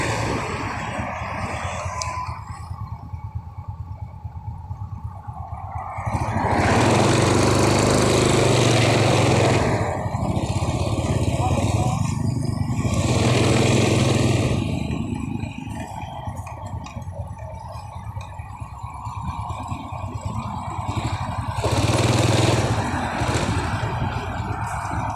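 A motorcycle engine runs steadily close by in a wooded area with many trees, a continuous rough drone that swells louder at times, with birds calling faintly in the background.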